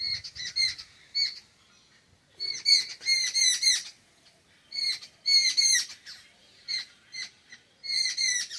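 Seven sisters babblers squabbling at a house around midday, bursts of harsh chattering calls repeating in clusters with short pauses, fairly close and clear with little else around.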